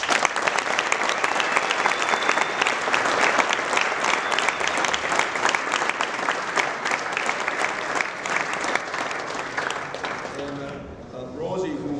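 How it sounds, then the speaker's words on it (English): Sustained, loud applause from an audience honoring championship water polo athletes, dense steady clapping that holds for several seconds before tapering off as a voice begins speaking near the end. "please give them a round of applause"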